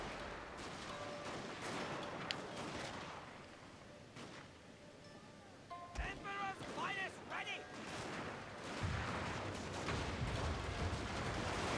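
Deep booming cannon shots ring out under a busy video game battle soundscape, with bursts of gunfire and a few distant blasts.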